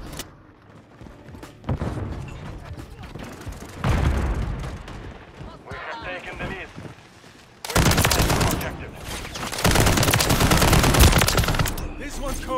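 Gunfire rattles through a video game match, with rapid automatic bursts and heavy booming shots coming in loud, dense clusters that grow more sustained toward the end.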